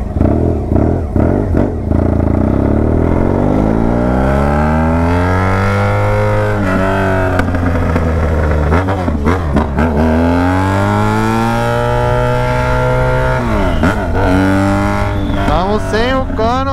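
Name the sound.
BMW F800GS motorcycle revving with straight exhaust pipe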